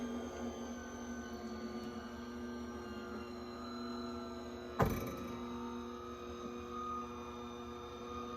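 An electric pasta maker runs while extruding gluten-free pasta, giving a steady, quiet motor hum with one brief thunk partway through.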